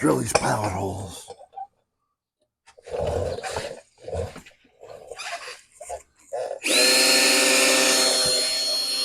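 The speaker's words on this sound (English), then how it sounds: "let's drill these pilot holes" A power drill bores pilot holes for a mudflap bracket on a Mack Cruiseliner truck, a loud steady whine running close and sustained for the last couple of seconds after scattered talk and pauses.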